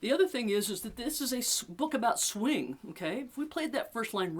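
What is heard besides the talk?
No distinct noise like a dog, phone or traffic.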